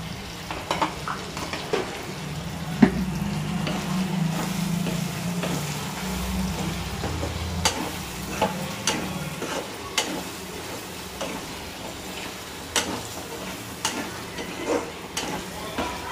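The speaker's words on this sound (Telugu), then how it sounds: "ఈ అల్లం వెల్లుల్లి పేస్ట్ మగ్గేటప్పుడే 1 స్పూను కారం వేసుకుందాం." Ginger garlic paste sizzles steadily in a pan with chili powder added for a chicken fry, a continuous close frying hiss broken by sharp ticks of a spoon stirring against the pan throughout.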